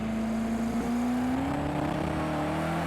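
Race car engine in Project CARS 2 powering out of a corner, a steady loud drone with a single sustained tone that climbs gradually as the car accelerates, no voices.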